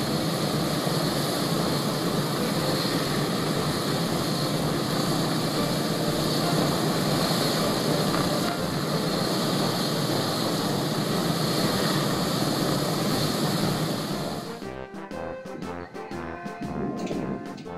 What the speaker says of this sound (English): the B-17's propellers appear to be rotating slowly, but they are really turning very fast.